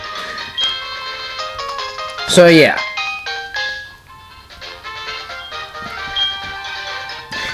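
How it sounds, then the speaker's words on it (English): An incoming phone call rings in the video game Pokémon SoulSilver as a chiming melodic jingle that carries on steadily, with a brief sweeping blip partway through and a short spoken remark over it. "speaking of phone numbers, we get a phone call"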